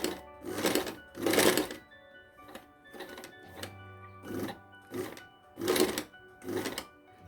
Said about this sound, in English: I'll stitch it with the pins on.